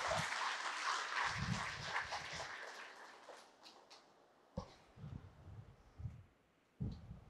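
A church congregation applauding during a Catholic mass and novena, a dense patter of clapping that thins and fades after a few seconds, followed by scattered low thuds, fairly distant and soft.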